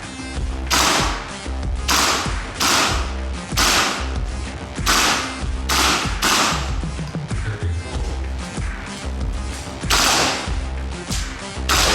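Repeated sharp shots from a KWA LM4 PTR gas blowback airsoft rifle (M4-A1 style), fired in bursts and single cracks with mechanical blowback clacks, loud and close, with no talking.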